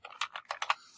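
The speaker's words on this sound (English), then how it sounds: "typing it in here" Quick, close keystrokes on a computer keyboard, a short burst of about half a dozen crisp clicks.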